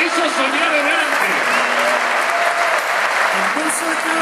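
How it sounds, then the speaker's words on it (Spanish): A large crowd celebrating San Lorenzo's return applauds loudly and continuously, with voices mixed into the dense clapping. "Fuertes aplausos para los que soñaron por primera vez."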